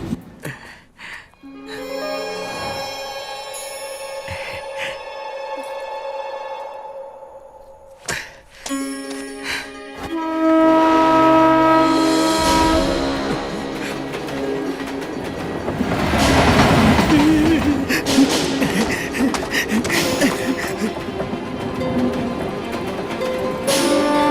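A passenger train on a platform getting under way, with rising rumble and rhythmic clatter building loud and close, mixed with crowd noise and music from a film scene.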